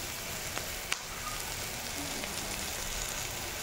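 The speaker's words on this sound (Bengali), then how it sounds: "এবার একটু এটাকে ভালো করে ভেজে নিতে হবে" Onions frying in a pan with a constant close sizzle and crackle, one small clink of a utensil near the start.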